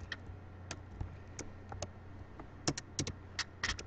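A computer keyboard is typed on while playing Minecraft, with irregular soft clicks at first, then a quicker cluster of sharper, louder keystrokes toward the end, alone over a low hum.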